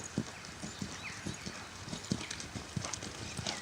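A horse walking at a slow pace, its hooves clip-clopping in a steady, evenly spaced rhythm, fairly close and moderately loud over faint outdoor background noise.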